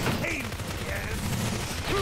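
Gunfire in the video game NeverDead rattles in a dense, loud fusillade of rapid shots through a boss battle, with a voice faintly under the noise.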